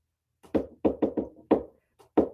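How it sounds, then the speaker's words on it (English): Secret knock rapped by hand on a surface: a crisp rhythmic pattern of about seven close, sharp knocks in uneven groups with short pauses, loud and dry with no talk over it. "He stopped and gave the secret knock that admitted him."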